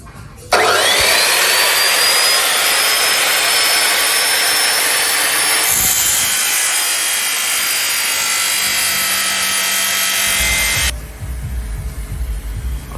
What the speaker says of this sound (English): I've pulled out the cut-off saw, got my measurements. I'll set that to 45 degrees there, make those miter cuts